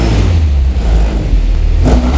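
A Volkswagen Golf GTI engine runs at about 1000 rpm, a loud, close, steady low drone with a slight swell near the end and no talk over it.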